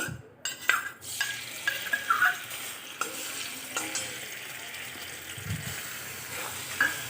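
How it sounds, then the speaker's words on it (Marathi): Crushed green chili dropped into hot oil in a pan, a steady sizzle with stirring scrapes and clinks of a utensil against the pan, close and alone. "यामध्ये मी ही मिरची जी ठेसून घेतली आहे ती टाकते"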